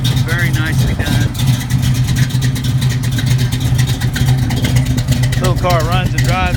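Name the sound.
1969 Chevrolet Camaro engine running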